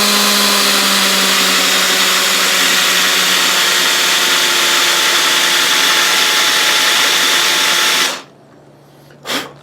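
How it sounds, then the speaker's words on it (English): A 5/8 inch Forstner bit bores into a one-piece guitar body for an output jack, giving a loud, steady whine that runs for about eight seconds, then stops abruptly with a short bump afterward. "what I do is I use a Forstner bit that is 5/8 of an inch."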